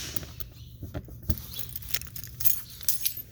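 A set of keys jangles and clinks in short irregular bursts, close and fairly quiet, alongside light handling noises in a Forest River Alpha Wolf 23RD-L travel trailer, with no voices.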